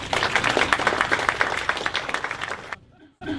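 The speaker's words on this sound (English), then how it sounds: "how about a big round of applause for Ian McMillan" Audience applause from a lunch-and-learn crowd, dense steady clapping for about two and a half seconds, then a sudden cut to near silence.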